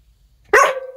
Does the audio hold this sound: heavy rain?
no